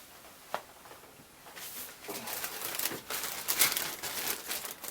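A plastic parts bag from an AMT 1:25 scale Autocar DC9964B dump truck model kit crinkles in short, soft bursts as it is handled, starting with a single light tap and then a quieter rustling.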